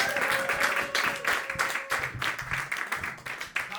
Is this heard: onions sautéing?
no